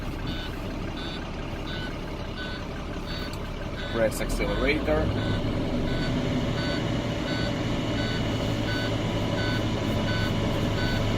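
A steady, repeating electronic warning buzzer beeps inside a CDL truck cab over an idling engine, with a short spoken remark and a rise in engine noise partway through.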